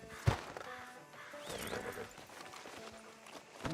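Horse in Red Dead Redemption 2 heard faintly: a sharp hoof strike, then soft scattered clopping and a brief whinny-like sound over quiet game ambience, with no speech.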